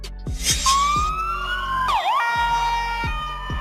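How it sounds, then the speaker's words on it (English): An ambulance siren wails loud and close in a rising-and-falling electronic tone that shifts pitch mid-sweep, with a low engine rumble and rhythmic pulsing horn tones underneath throughout. "Ambulance."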